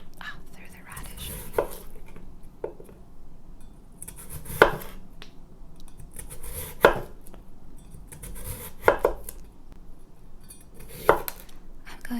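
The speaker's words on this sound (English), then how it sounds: "now I'm going to cut it very finely into thin slices. And you can actually see my knife going through the cabbage, through the radish." A knife slices a radish thinly on a cutting board with sharp close chops, spaced irregularly over a soft hush in a quiet kitchen.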